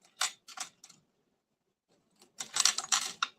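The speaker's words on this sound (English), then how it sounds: "So I'm going to trim this a little bit and make it a little smaller." A paper trimmer slices through cardstock during card making, giving a few short scraping cuts close by, then a pause, then a longer burst of sliding, crisp cutting strokes.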